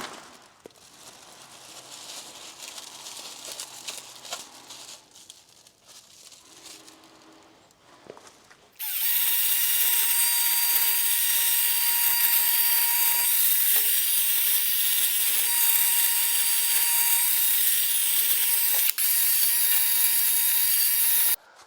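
Abrasive cleaning of corrosion from a steel brake knuckle and flange on a Golf: a quieter rubbing stretch, then a loud, steady high-pitched grinding whine running continuously for over twelve seconds, close up.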